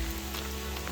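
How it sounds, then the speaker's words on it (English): Steady rain pouring outdoors in a wooded provincial park campsite, a dense even hiss with a low rumble beneath and no voices. "As you can see, it's really rainy right now."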